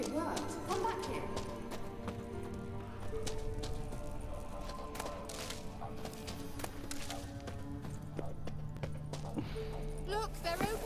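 Horse hooves clip-clop in The Witcher 3: Wild Hunt, a steady rhythmic trot running under a thick bed of game music and effects for the whole stretch, with a voice talking over it.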